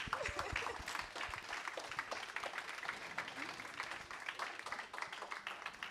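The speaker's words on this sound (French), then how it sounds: "applaudissez." Audience applause at a Saturday praise concert, the crowd standing as it claps: steady, dense clapping from many hands that fills the room, with a few voices mixed in.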